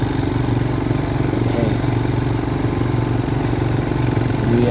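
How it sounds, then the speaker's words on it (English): Quad bike engines idle together on the Walvis Bay sand dunes in coastal Namibia, a steady, continuous low mechanical rumble with an even pulsing drone that holds close and fairly loud throughout, with no voices. "We got quad bikes, and we're just easing up into the quad bikes"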